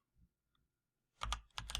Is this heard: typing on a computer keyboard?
yes